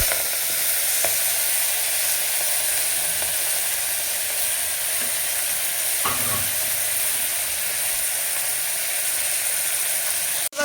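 Fenugreek fries in a pan of spices with a loud, continuous sizzle, and a few faint clicks of stirring break through the steady hiss near the start and middle.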